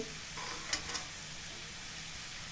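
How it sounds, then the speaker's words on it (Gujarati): Stuffed chili kadhi mixture being stirred in a pan, soft scraping strokes over a faint steady sizzle, with a couple of brief clinks near the start, quiet and close. "બરોબર મિક્સ કરી લે"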